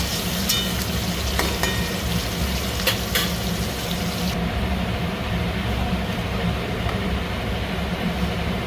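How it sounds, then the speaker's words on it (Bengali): Onions frying in a pan for a mushroom masala, a dense continuous sizzle that stays steady throughout, with a few sharp crackles early on and a brighter hiss that drops away midway. "পেঁয়াজটা ভালো করে ভেজে নেব।"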